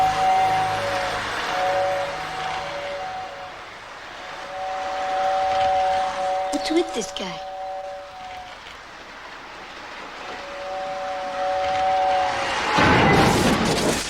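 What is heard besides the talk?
model train running and derailing in a film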